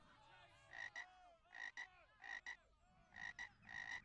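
A crowd of toads croaking in an animated comedy cartoon: bursts of bright, rattling croaks in uneven clusters, several overlapping, fairly close and clear, with no talking.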